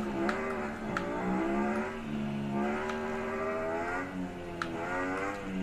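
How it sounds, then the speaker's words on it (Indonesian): A car accelerates in a racing video game played on a Rexus GX300 gamepad, its engine whine climbing in pitch through several gear changes, with steady revving and brief clicks above. "langsung bisa ngegas tuh."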